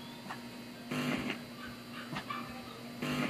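A dog in the video game Five Nights at Candy's barks a few times in short bursts over a low steady hum, the barks sharp but not very loud.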